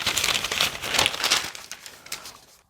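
Cut paper pattern pieces for a knit tee are handled, with continuous close crinkling and rustling that tapers off toward the end.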